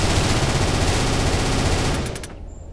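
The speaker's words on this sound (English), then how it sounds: "I can shoot like this, and I can shoot like this" Sustained rapid-fire shooting in the blocky shooter Murder Miners, a dense continuous machine-gun stream lasting about two seconds before cutting off into a few faint trailing clicks.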